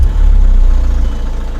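A 2.2-litre diesel engine in a Mahindra XUV500 SUV idles close by with a deep, steady low rumble and faint rhythmic throb.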